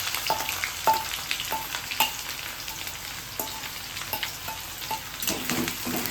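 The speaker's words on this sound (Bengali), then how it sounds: "বাপি আস্তে করে সাবধান পেঁয়াজ কুচিটা দিয়ে দিচ্ছে তেলের মধ্যে" Chopped onion frying in hot oil with whole garam masala, a close steady sizzle broken by repeated metallic spatula clinks and scrapes against the pan.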